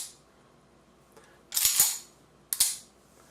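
CZ 75 pistol with a short reset disconnector dry-fired rapidly, giving two sharp metallic bursts of clicks about a second apart, close and loud against a quiet room.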